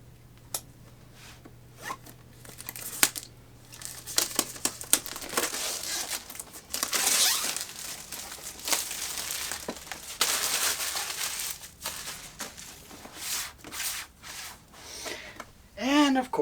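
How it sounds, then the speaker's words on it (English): Plastic film is peeled off a new DJI Mavic Mini Fly More Combo at close range, with sharp crinkles and taps at first, then long continuous rustling and tearing, and a final crinkling burst. "So now, let's get this plastic off."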